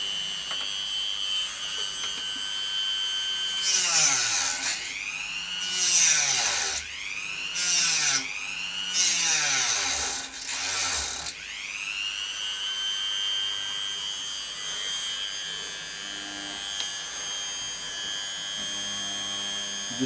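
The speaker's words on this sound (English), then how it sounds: "Now I can just get the Dremel again." A Dremel rotary tool cutting into the plastic cross member of a Hitachi radio cassette player, its high whine dipping and rising in several bursts of cutting strokes, then running steadily as a loud close drone with no talk.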